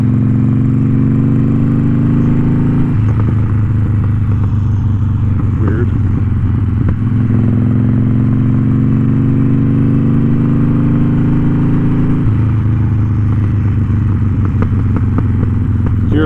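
A motorcycle engine runs steadily while being ridden, with its pitch rising through gear changes as it accelerates, loud and close with wind noise throughout.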